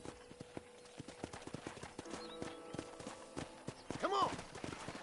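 Horse hooves clip-clop steadily while riding in the video game Red Dead Redemption, a quick, even trotting rhythm up close, with a brief whinny near the end and faint speech in the background.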